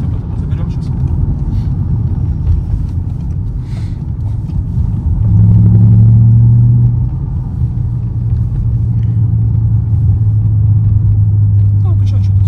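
Car engine pulling steadily in second gear at about 2000 rpm, a low sustained drone that swells in the middle and holds as a steady hum, with people talking over it inside the cabin.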